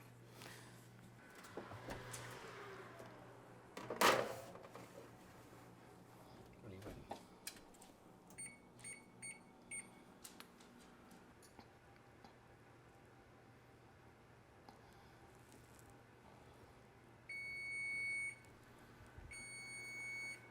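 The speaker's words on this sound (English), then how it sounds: "The timer went off." An electronic oven timer beeps while a chocolate zucchini cake bakes in a home kitchen, giving short bursts of repeated high beeps at a moderate level over a steady low room hum.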